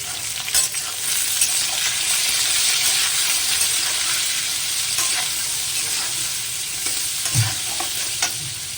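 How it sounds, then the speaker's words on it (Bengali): Potatoes fry in a pan with turmeric added, giving a steady close sizzle with occasional scraping stir strokes, no talking. "আলু ভাজাটার মধ্যে হলুদ দিয়ে দিলাম"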